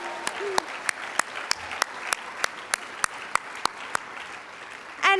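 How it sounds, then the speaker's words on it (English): An audience at a business women's awards presentation applauds in steady, evenly spaced claps. Voices are mixed in beneath the clapping, and a louder swell comes at the very end. "Can I hear a cheer for that?"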